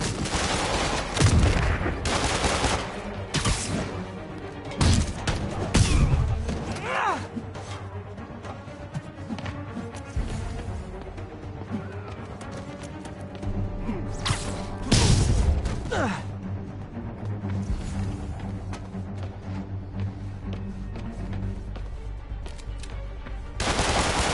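Enemy gunmen in Marvel's Spider-Man fire repeated bursts of automatic gunfire, with sharp loud volleys and scattered shots continuing over the whole stretch among game effects.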